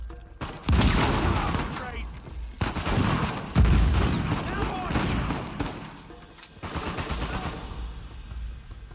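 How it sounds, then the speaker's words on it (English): Gunfire in Uncharted 4: dense, irregular bursts of shots and booms come in clustered volleys, loud and close, with short lulls between them and talk mixed in. "Who's shooting?"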